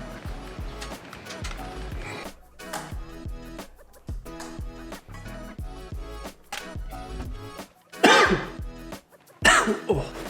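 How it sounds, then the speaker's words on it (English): A couple of harsh coughs burst out close by near the end, following a stretch of muffled sounds. "coughing is the worst"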